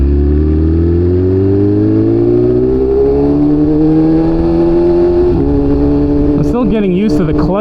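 A BMW S1000RR superbike engine winds up steadily through the revs while riding challenging curves, a loud rising whine that drops at a shift near the end, heard from the rider's position.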